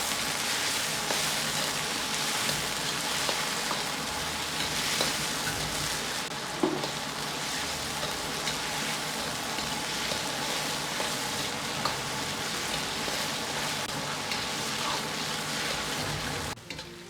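Drained potatoes stir-frying in hot oil in a wok, a steady dense sizzle like light rain, continuous and close with occasional stirring clicks.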